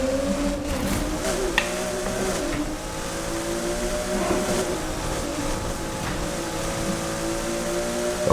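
Race car engine in a daytime Need for Speed race played on a sim wheel, droning steadily with layered tones that climb and fall as it revs through gears, with no voices over it.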